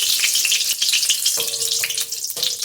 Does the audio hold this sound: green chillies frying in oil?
yes